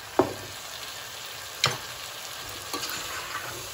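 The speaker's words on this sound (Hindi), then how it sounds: "अब हम इसमें जो हमने चिकन फ्राई की थी वो ऐड कर देंगे" Fried chicken pieces tossed into a hot pan for chilli chicken and stirred, with a few sharp scraping stirs and a steady sizzle between them, close up and with no one speaking.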